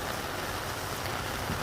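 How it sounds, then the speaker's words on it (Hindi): A rain shower falls on a cattle pasture in the rainy season, a dense steady hiss of drops filling the whole scene without pause, loud and even, with no talk. "तो गोचर में चरते चरते अचानक जो बारिश आई"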